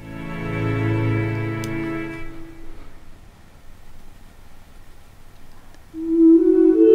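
Soft background music plays at half volume in an OBS Studio stream mix: a short melodic passage fades into near quiet, then a brighter sustained tone swells back in at the end.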